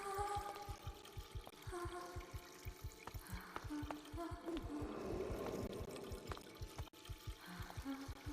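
Taps left running in the video game Shadow Detective, a steady pouring rush of water under a regular low thumping pulse, continuous and fairly close throughout.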